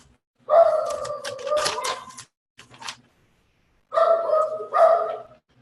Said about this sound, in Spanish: Perdona a mi perra que está ahí